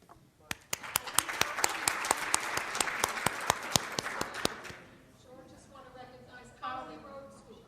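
Audience applause at a Martin Luther King Jr. community partner breakfast, a steady burst of many hands with a few sharp loud claps on top, fading out after about five seconds as voices talk.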